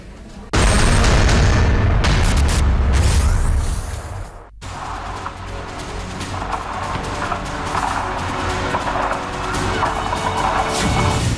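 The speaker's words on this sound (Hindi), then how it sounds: "भारतीय सेना ने उड़ाए पाकिस्तानी बंकर" Loud, heavy blasts from Indian Army explosions destroying Pakistani bunkers, a sudden booming crash that rumbles for several seconds before cutting out, then a sustained roaring wash of noise afterward.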